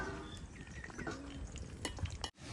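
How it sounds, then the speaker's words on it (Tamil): Eggplant frying in a pan while being stirred at an outdoor garden cooking spot, a faint steady sizzle with a few light clinks of a utensil, then an abrupt cutoff near the end. "இப்போ கத்திரிக்காய் பொரிச்சு எடுப்போம்"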